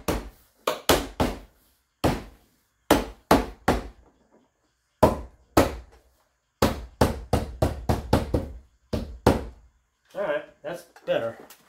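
Plastic plugs get tapped into a hole in a Toyota RAV4 roof rack: sharp, close knocks in irregular bursts of two to five with short pauses, then softer handling noises at the end.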